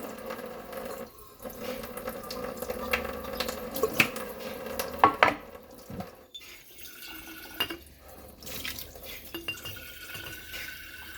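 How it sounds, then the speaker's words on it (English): Water runs and splashes in a sink with clinking, rattling bursts of small glass pebbles being rinsed; irregular and close. "they are little glass pebbles that I can easily rinse off. Rinse off the bottom."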